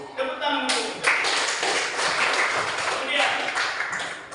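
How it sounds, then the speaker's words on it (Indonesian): A group claps together in a steady, dense patter of hand claps, close by, lasting several seconds. "tepuk tangan untuk kita"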